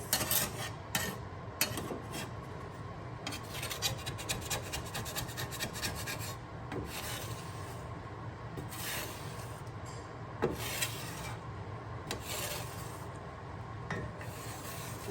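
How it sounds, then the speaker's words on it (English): A metal scraper rasps repeatedly across a flat-top griddle in short, uneven scraping strokes, moderately close and fairly quiet, with no talking. "we actually have a scraper. But everything is coming up with this."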